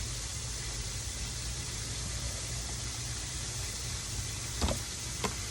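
Chicken wings fry in hot oil, giving a steady, even sizzle that carries throughout, with a couple of faint clicks near the end.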